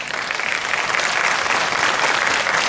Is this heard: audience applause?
yes